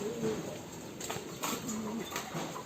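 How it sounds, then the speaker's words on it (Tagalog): Pet birds, one of them off-colour and sick, coo in low, soft, repeated calls at close range against a quiet indoor background. "Mga ibon"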